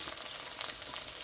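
Paneer pieces fry in a pan of hot oil, giving a close, steady sizzle with soft crackling pops over the short stretch, no talking.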